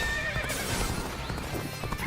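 A galloping horse whinnies loudly in the Dynasty Warriors: Origins video game, its neigh riding over a quick, continuous beat of hooves, all close and prominent.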